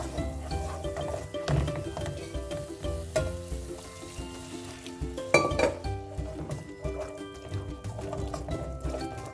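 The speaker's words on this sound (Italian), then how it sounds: "Ho mescolato tutto e adesso comincio ad aggiungere il latte bollito, caldo, molto caldo." A spoon stirs béchamel in a pot as hot milk is added, with repeated metallic clinks and scrapes against the pot, soft liquid sounds and a faint sizzle underneath.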